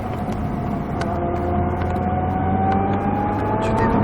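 Race car accelerating on the Croix-en-Ternois circuit, a loud steady engine drone with rising pitch heard from inside the car, with faint clicks over it.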